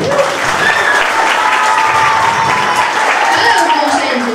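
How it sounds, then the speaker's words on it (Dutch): An audience at a youth carnival prince election claps loudly and continuously for a few seconds, with faint voices and whoops mixed into the applause. "Applaus voor Maarten."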